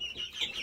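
Dwarf roosters and hens clucking in a farmyard, a short run of close, moderately loud clucks with no talk over them.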